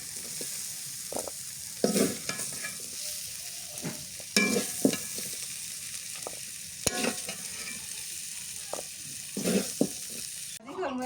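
Potato, bean and dried fish bhaji is stirred in a hot pan while it fries, with a steady sizzle and repeated scraping strokes of the spoon at irregular intervals, close and clear without talk.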